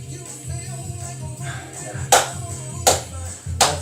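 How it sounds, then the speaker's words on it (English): Three sharp hand claps ring out about a second apart over a low rhythmic song backing during an exercise routine, close and distinct. "Let's clap along"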